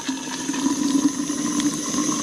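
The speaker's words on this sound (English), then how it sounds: "I just spilled boiling water on my hands and it didn't hurt." Boiling water poured from a pot and spilling outdoors at a winter campsite, a steady close splashing wash with no talk.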